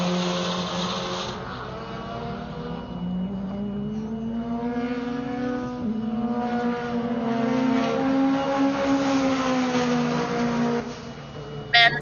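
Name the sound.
CSF Evo race car passing down the front straight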